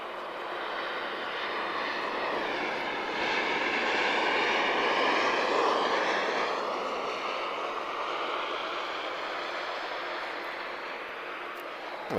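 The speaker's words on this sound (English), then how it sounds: "A beautiful long touchdown from Ryanair there." A Ryanair airliner lands at Lisbon Airport with a long touchdown, its engine roar swelling to a broad loud rush midway and then fading slowly as it rolls out.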